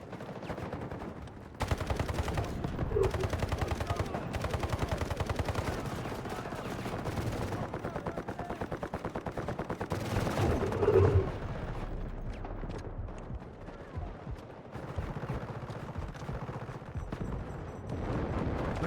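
Gunfire in the video game Delta Force comes in bursts of rapid automatic shots and booms throughout a busy battle mix, with faint voices talking underneath.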